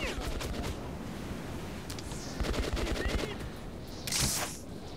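Gunfire in the video game Metro 2033 Redux, sharp loud bursts over a steady noisy game background, with a few clustered shots and a louder blast near the end.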